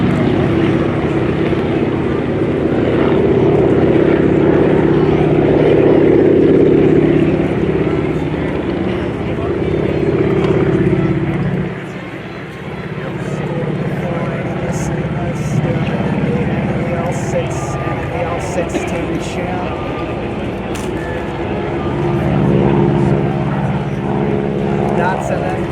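A Boeing Stearman biplane flies at the Warbirds Over The Beach airshow, its propeller engine droning steadily as it passes, swelling and fading beneath continuous commentary.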